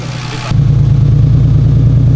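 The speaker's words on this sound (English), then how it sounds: "so it is a cold start, so it's a little bit louder than it normally would be" A boosted BMW E36 engine catches on a cold start and settles into a loud, steady, slightly rough idle, close by and uninterrupted after the first half second.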